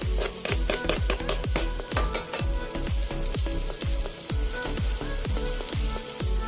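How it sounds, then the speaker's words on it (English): Ginger and garlic sizzle in a pan for mutton curry, a bright, continuous frying crackle pulsing with rapid rhythmic stirring strokes and a few sharper clinks, with no talk over it. "Let's now add ginger and garlic."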